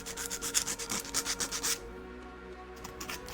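Black sandpaper rubs rhythmically over a small wooden kitchen model piece, a quick run of close, soft scratchy strokes that stops partway, leaving quiet room tone.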